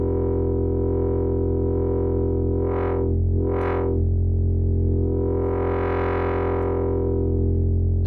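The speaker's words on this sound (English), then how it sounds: "So I'm going to use LFO1, sine wave, assigned to Oscillator 2's morph parameter" A sustained synthesizer tone, its second oscillator's morph swept by a sine-wave LFO, hums steadily while its brightness swells and fades in slow waves, rising twice in quick succession and then once more broadly.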